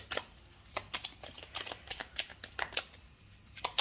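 Tarot cards are laid out one by one on a table, giving soft, quick, close snaps and slides in an uneven rhythm, quiet and without talk.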